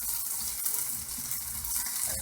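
Thin slices of beef bulgogi sizzle and crackle steadily in a hot pan, a short, bright frying hiss heard up close with no voices.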